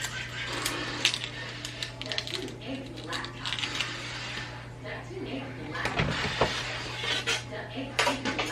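Knife finely chopping a tiny garden onion on a board, a series of quick irregular taps and clicks over a steady low hum, with a voice talking in between.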